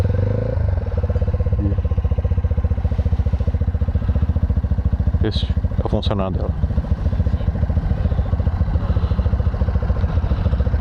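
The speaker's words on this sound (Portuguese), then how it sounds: "Eu removi essa tampa para que o barulho da moto ficasse um pouco mais grave." A UM Renegade Vegas 125 motorcycle idles with its exhaust cap removed, a steady low rumble that runs loud and close through the whole stretch, while someone talks over it and a brief clatter cuts in midway.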